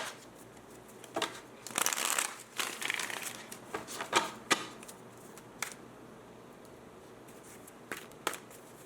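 Tarot cards are shuffled and drawn by hand, giving quiet, close riffling and flicking bursts, with a busier stretch near the start and sparse single snaps afterward, with no talking.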